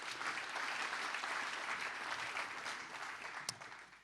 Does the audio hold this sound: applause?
yes